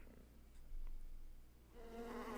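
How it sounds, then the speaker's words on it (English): Buzzing bees hum as a sound effect, a steady insect drone that swells after a moment, then gives way to a brighter, denser buzz near the end, moderately loud and with no voices. "Bees!"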